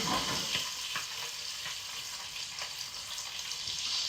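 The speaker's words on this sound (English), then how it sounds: "let's get back to our garlic here. Oh, our garlic's browning nicely." Garlic sizzles and browns steadily in a cast iron skillet, a close, continuous bright crackle with small pops and stirring scrapes throughout, no voices.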